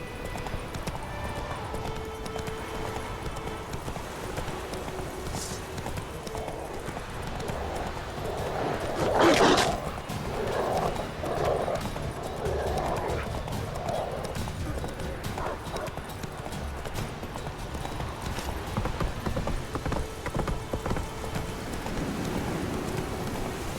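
Roach, the horse in The Witcher 3, gallops with steady, rhythmic hoofbeats close by, layered over a soft rain-like wash and a brief louder flurry midway.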